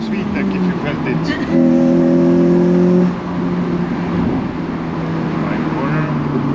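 A Honda Civic Type R FN2 climbs a hill, its engine rising into a loud, hard-edged rev as VTEC engages for a second or two mid-clip before settling back into steady road and cabin noise.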